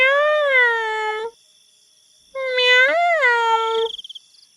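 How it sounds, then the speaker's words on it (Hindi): A cat gives two long drawn-out meows separated by a short silence, the second rising and wavering before trailing into a few soft chirps, clear and close. "म्याऊ"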